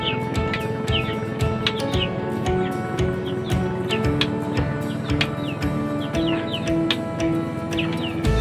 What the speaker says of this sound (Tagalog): May mga manok dito na humapon sa loob ng kubo.